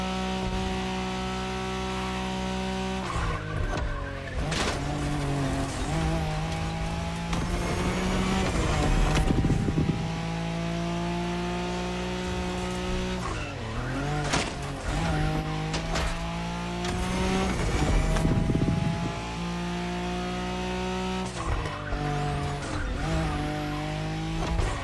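Street race cars in The Crew Motorfest, Wangan-style highway racing in Tokyo, roar with sustained high-revving engines, shifting pitch through gear changes and bursts of tire squeal, loud and continuous throughout.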